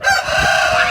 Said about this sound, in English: That's a rooster. So loud and noisy.